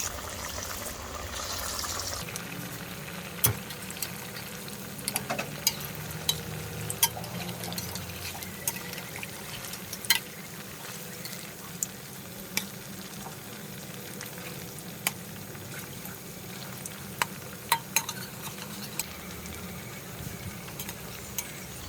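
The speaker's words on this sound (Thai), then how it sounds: "ใส่ไฟกลางเนาะในการทอดกล้วย" Bananas frying in hot oil over medium heat, a steady close sizzle and bubbling that runs throughout, with occasional small clicks and pops from utensils.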